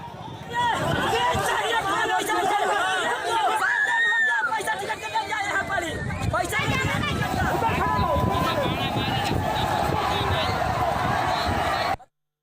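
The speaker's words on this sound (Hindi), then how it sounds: "देखिए किस तरह से नारे लगाते हुए हजारों की संख्या में भीड़" A huge crowd of thousands chants slogans on National Highway 141 in Kutch, Gujarat, a continuous loud roar of many voices and steady babble that cuts off abruptly at the end.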